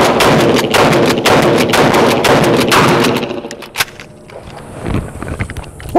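A Mossberg Shockwave 12-gauge fires Aguila mini shells in a rapid string of loud, close blasts over about three seconds, then falls to quieter handling noise and a final shot.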